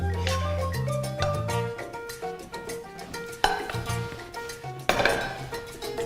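Stir fry spooned onto a plate of rice, with clinks and scrapes of a utensil against the dish and a couple of sharper knocks over faint music, close by.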